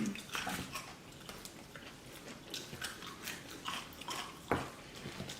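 Crunchy bites into fried KFC chicken wings, close and intimate, with several sharp crackling crunches and chewing spread across the moment, no talking.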